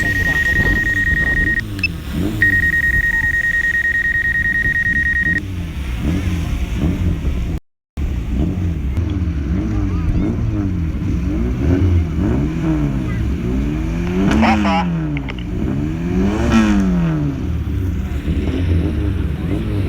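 Autocross race cars at a 2019 competition in the village of Zhatay, engines revving and surging in repeated sweeping passes, loud and close with wind buffeting, and people talking over the noise at times.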